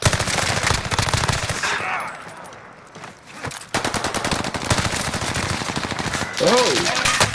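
Rapid automatic gunfire from a Call of Duty: Modern Warfare multiplayer match crackles in loud sustained bursts, dropping briefly to a lull before resuming with dense volleys, with a voice speaking over the fighting.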